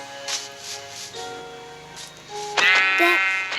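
Several sheep bleats from a video game, the loudest and nearest near the end, over a soft tonal game background.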